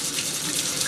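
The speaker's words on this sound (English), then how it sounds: "So to start out, I'm just going to get it saturated with water" Tap water gushes steadily and loudly from a faucet onto a beauty blender sponge to soak it, a continuous close rushing splash with no talk.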